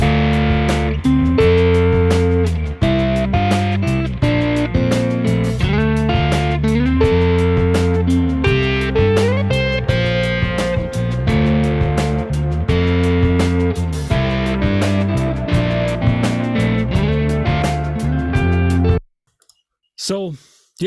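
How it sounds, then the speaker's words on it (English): Electric guitar run through a Kemper Profiler with heavy distortion, delay and reverb, playing loud sustained chords and lines for nearly twenty seconds, echoes trailing, before cutting to near silence. "I'm adding the nasty delay, and then after that I will turn on the reverb and the other delay"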